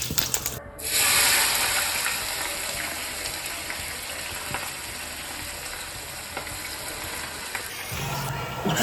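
Cumin seeds and asafoetida hit hot oil in a pan for paneer bhurji, setting off a loud, steady sizzle that fills the whole stretch, close up and uninterrupted.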